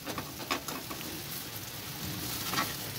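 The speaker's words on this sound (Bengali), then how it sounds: "আমি এখানে পেঁয়াজ আর লঙ্কা দিয়ে ভেজে নিচ্ছি।" Eggs frying with onion and chili in a pan in a village kitchen: a steady close sizzle with light crackles and a few soft scraping stirs, no talking.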